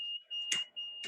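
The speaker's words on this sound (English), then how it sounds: "As soon as the hogs leave that area, then the alarm's going to clear." An electronic alarm in a hog barn counting system sounds a steady high-pitched continuous tone, with two brief louder bursts of noise cutting across it.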